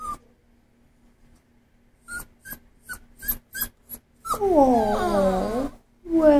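A small puppy dog whimpers indoors in a quiet kitchen, starting with a short run of soft, evenly spaced cries and then breaking into a longer, louder wavering whine, with no talking over it.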